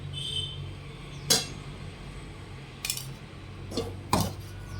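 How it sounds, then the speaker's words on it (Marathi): Dry dates roast with a little ghee in a pan, a spoon striking the metal in four sharp, separate clinks over a faint, low background hiss. "आता खारीक भाजून घेऊया त्याच्यातही थोडंसं तूप टाकून घेऊया"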